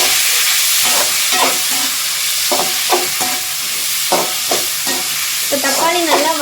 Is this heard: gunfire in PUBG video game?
no